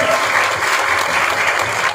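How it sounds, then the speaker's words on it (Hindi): Loud, dense applause from an audience at a seminar in Agra, steady and sustained throughout with no pauses. "विजय पांडे और केशव रावत सर के लिए एक बार जबरदस्त ताली होनी चाहिए"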